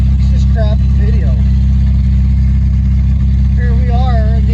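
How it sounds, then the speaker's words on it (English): A Volkswagen Beetle bought sight unseen runs steadily with a constant low engine drone, loud and continuous throughout, not idling, while people talk over it. "This car is still running and not idling."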